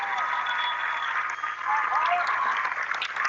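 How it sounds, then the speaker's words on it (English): Basketball fans in a gym applaud a player fouling out as he walks to the bench, a moderate crowd clapping heard at a distance beneath a play-by-play announcer's talk. "pleased Manton fan base will applaud him to the bench"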